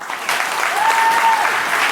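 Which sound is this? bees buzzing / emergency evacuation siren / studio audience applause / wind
studio audience applause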